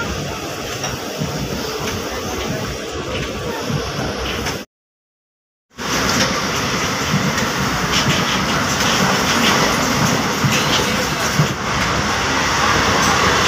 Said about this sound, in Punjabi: ਬਈ ਇਹ ਟ੍ਰੇਨ ਆ ਵੇਖੋ